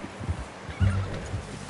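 A horse in the Red Dead Redemption 2 video game gives a short, low snort and whinny close by, with soft hoof shuffles around it and no talking.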